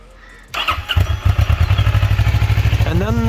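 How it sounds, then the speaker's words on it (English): After a quiet moment a motorcycle cranks and fires up abruptly, then settles into a loud, loping idle with uneven pulses close by, and a voice talks briefly near the end. "just go ahead and start the bike."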